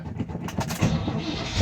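A 1984 truck engine cranks and turns over in a short burst, with a rough mid-low rumble, clattery bursts early on, then a steadier running drone that grows slightly louder at the end.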